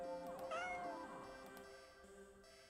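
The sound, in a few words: cat meowing in video game Do NOT Take This Cat Home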